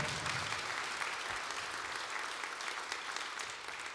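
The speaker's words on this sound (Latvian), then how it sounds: "Ar aplausiem sagaidām." Steady, dense audience applause fills a hall at the Zelta Čiekurs 2025 forestry award ceremony, holding at an even level throughout with no voices on top.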